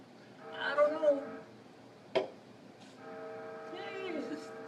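A recorded, fake train whistle plays back twice, with a sharp click between the two chord-like blasts. It sounds faint and somewhat distant, and voices talk quietly in the background.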